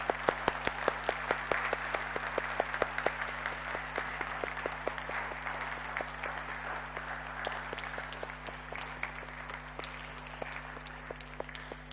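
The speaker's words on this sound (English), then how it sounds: "please join me in giving a big round of applause for the three speakers" An audience at a Mathemusical Conversations plenary session claps steadily for about twelve seconds, giving even, sustained applause for three speakers that stays fairly consistent throughout.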